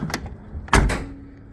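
The door of a 1986 Jeep Comanche XLS pickup shuts outdoors in the cold, giving a light rattle followed by a single solid, heavy thunk close by.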